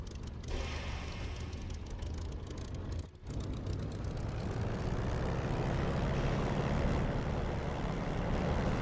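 A fixed-wing aircraft rolling for takeoff in a flight simulator game, its steady engine roar continuous and loud throughout, briefly dipping once before building back to a sustained drone.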